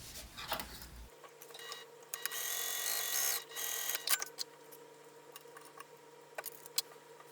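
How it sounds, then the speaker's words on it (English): A sewing machine top-stitches along a fabric crease on a pac pouch, a steady motor hum with a short burst of louder running in the middle, close and quiet. "I'm going to top stitch along that crease"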